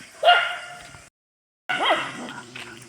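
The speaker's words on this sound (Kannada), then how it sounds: "ಇವ್ನು ರೋಡಲ್ಲಿ ಹೋಗೋರಿಗೆಲ್ಲ ಬೊಗಳ್ತೇನೆ" A dog barks sharply a few times nearby, yelping with rising pitch, with a short silent gap between bursts.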